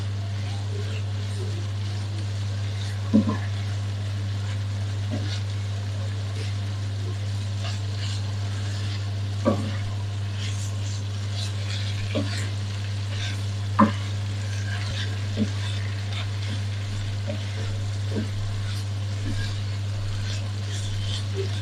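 Chicken and eggplant curry with curry chillies and red chillies cooking in a pan, a low sizzle with occasional spoon knocks and stirring scrapes over a constant hum.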